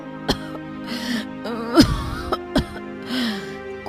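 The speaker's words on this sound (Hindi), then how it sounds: "ये कैसी खांसी है?" A woman in an animated Hindi moral story coughs and clears her throat in several short, sharp bursts with strained moaning breaths between them, close and clear.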